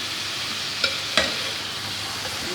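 Tomatoes and chicken fry together in a pot, a continuous close sizzle broken by two sharp clacks of a spoon stirring against the metal.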